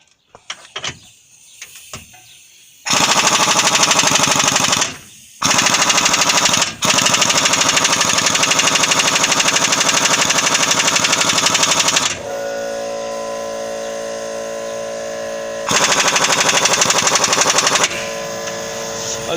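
An impact wrench hammers at a front lower control arm bolt on a 2005 Toyota Highlander, several long loud rattling bursts with short gaps and a change in pitch partway through.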